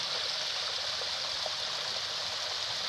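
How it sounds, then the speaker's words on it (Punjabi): Water flows in a continuous stream and overflows, a steady close hiss and rush with no pauses or voices. "ਕੰਟੀਨਿਊ ਫਲੋ ਆ ਰਿਹਾ ਪਾਣੀ ਦਾ ਇੱਧਰ ਓਵਰ ਫਲੋ ਹੋ ਜਾਂਦਾ ਇੱਧਰ"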